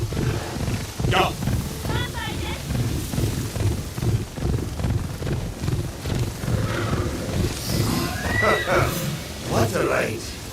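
Horse neighing and whinnying in the video game Assassin's Creed Shadows, with several whinnies standing out over a steady busy game mix and ongoing talk.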